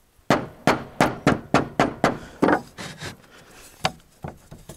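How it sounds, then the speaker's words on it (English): Sharp, close hammer blows nailing a hand-cut stone roof slate, about a dozen strikes in a quick regular run that slows and spaces out toward the end, each with a ringing, knocking impact. "Okay, that was nailed a little tight"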